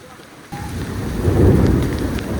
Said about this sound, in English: Rainy weather here.